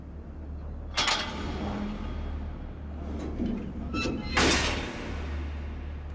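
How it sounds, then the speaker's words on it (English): A door thuds shut in the video game Assassin's Creed Brotherhood, with two heavy knocks close together and faint speech in the background. "Closing this goddamn door"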